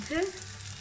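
Aubergine frying in a pan: a faint, brief sizzle with a short scrape of stirring, quiet and close.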